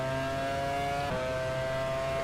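Ferrari Formula 1 car engine in the racing game F1 Challenge '99-'02, a sustained high-pitched whining drone at steady revs with a brief shift midway, loud and continuous with no talking.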